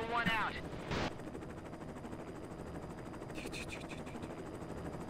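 A helicopter in the video game Operation Flashpoint gives a continuous, pulsing rotor chop with a steady engine hum behind it. Brief loud bursts and a spoken remark rise over it near the start.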